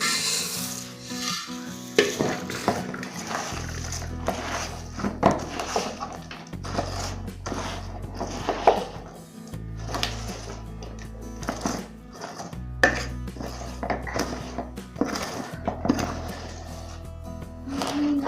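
Puffed rice laddu mixture, likely with jaggery syrup, scraped and stirred in a pan, giving steady rustling, scraping strokes in uneven rhythm with a low hum running beneath, close and moderately loud, with no talking.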